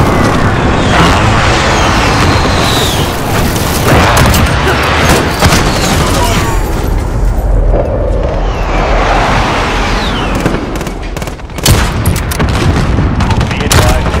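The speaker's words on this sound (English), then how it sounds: "Enemy precision airstrike." Heavy, continuous explosions from an enemy precision airstrike in Call of Duty: Modern Warfare pound loudly for the whole stretch, layered with dense gunfire and crackling debris, while radio-style voice lines are spoken over the chaos.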